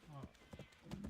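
Horse hooves clip-clop in the video game Black Desert Online: a few soft, uneven hoof beats under a man's speech, fairly faint.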